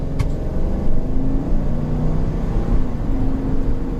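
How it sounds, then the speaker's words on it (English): A 2021 Chevrolet Tahoe High Country V8 accelerating after a quick downshift, a steady low engine hum building under cabin road noise, close and moderately loud. "Just a quick downshift and go, and that V8 sounds nice."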